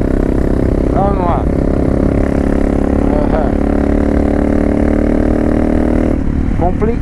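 A Honda Falcon NX 400 motorcycle with a 3-inch stainless steel Atalla exhaust drones loudly and steadily while riding, with a slight rise in revs, as someone talks over it.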